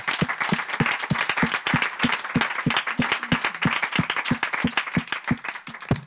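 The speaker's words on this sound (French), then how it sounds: "je pense qu'on peut tous les remercier et les applaudir pour ce partage" A conference audience applauds speakers after a startup scale-up talk, a steady round of clapping with distinct individual claps standing out close by, lasting throughout without talk.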